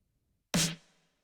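A lone snare drum sample from a self-produced track, a single sharp, bright hit with a short ringing body that decays quickly into silence.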